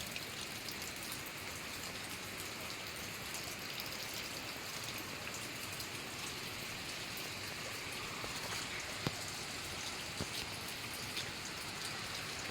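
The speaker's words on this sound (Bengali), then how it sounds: "সুন্দর বৃষ্টি ভরা একটা সুন্দর সকাল" Morning rain falling steadily in the Mirik hills, an even, dense hiss of drops on surfaces with a few louder nearby drips, no voices.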